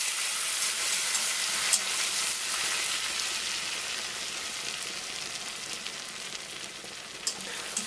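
Plain flour sifted and stirred into melted butter in a saucepan for lasagna sauce, a steady close hiss and crackle of sizzling with faint scraping of stirring, no talking.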